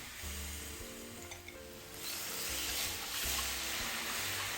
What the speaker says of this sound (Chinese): 接着再加入熱水，熱水下鍋，避免鴨肉變硬